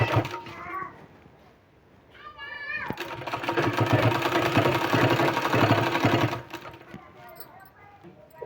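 A sewing machine stitching a sleeve runs in a steady loud burst for a few seconds, with a brief earlier whir, while someone talks before and after the stitching.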